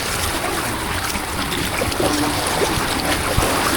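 Water rushes and splashes continuously over riders on an amusement park ride, a dense steady wash of noise with a few sharper spatters.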